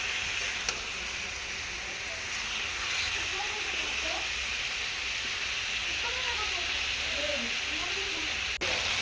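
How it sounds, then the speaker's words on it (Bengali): Potatoes and chopped tomato frying in a pan for a chicken dish, a steady close sizzle and hiss running throughout with little change in level. "তো এটাকে ভালো করে সুন্দর করে ভেজে নেব"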